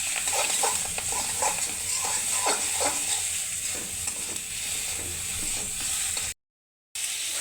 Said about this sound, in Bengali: ডিমটাকে আমরা নাড়াচাড়া করছি এখন তেলের ভিতর দিয়ে। খুব শব্দ হচ্ছে